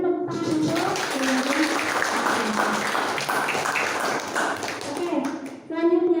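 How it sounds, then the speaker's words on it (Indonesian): During a teacher-training class session, a group's brief, light applause rises between stretches of someone speaking and then fades as her voice returns. "berikan tepuk tangan untuk"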